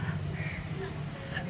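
Crows caw at dusk as birds head home for the evening, their calls rising over a steady, fairly faint outdoor background with no clear voices.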